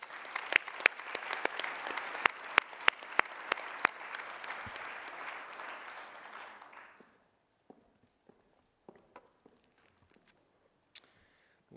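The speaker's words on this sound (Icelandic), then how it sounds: "Gefum henni gott klapp." Moderate crowd applause with a few sharp individual claps for a prize winner at a sports award ceremony in Akureyri fades out after about seven seconds, followed by scattered faint clicks and knocks.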